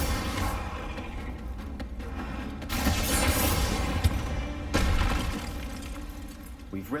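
Repeated Bombarda blasting-spell explosions during a spider fight in Hogwarts Legacy, loud crashing booms with shattering debris, several bursts in a row under dense combat noise.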